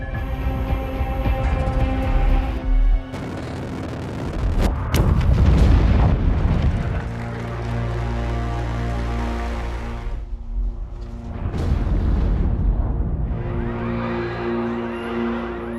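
A nuclear facility explodes in an action film: deep booming blasts with rumbling low-end, a sudden loud burst midway, and sustained dramatic music beneath.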